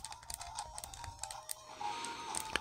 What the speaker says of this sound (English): the combos are really cool with this little clicky stick. I mean, I don't know them. I'm just randomly pressing shit to do it